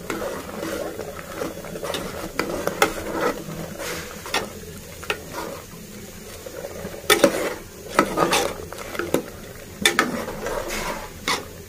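A utensil scrapes and clinks against a metal pan in irregular strokes while stirring chana dal and cluster bean curry after chili and coriander powder are added, with faint sizzling underneath and no talking.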